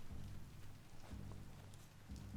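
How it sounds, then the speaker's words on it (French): Rain falls in the video game Biomutant as a steady, soft hiss, faint and distant, with a few low dull thumps underneath. "Je me disais, tiens, il pleut."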